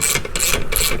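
A hand ratchet clicks in quick, rhythmic bursts while a bolt is backed out of the Yoshimura exhaust on a 2021 Honda CRF110 dirt bike. The close mechanical ratcheting comes in several bursts with no talk.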